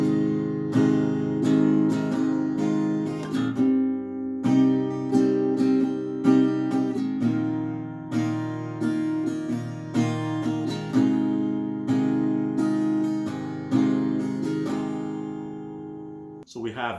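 An acoustic guitar strums the fourth chorus of a song, steady chords ringing continuously for about sixteen seconds up close, with a brief pause near the end.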